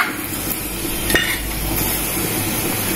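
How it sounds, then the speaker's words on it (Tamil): A pot of quail biryani is stirred after salt goes in, giving a continuous soft scraping and gentle sizzle with one brief clink partway through. "உப்பு அதில் சேர்த்துட்டு அதை நல்லா கிண்டி விட போகிறோம்."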